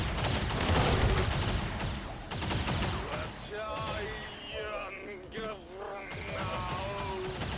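Rapid, crackling gunfire bursts from the XCOM 2 video game, loud and dense at first, then thinning out, while someone talks excitedly over the shooting.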